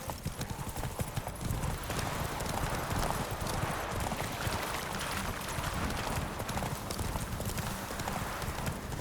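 Rapid clip-clop hoofbeats of a horse galloping in The Witcher 3: Wild Hunt, loud and steady throughout over a dense game background, with an occasional whinny.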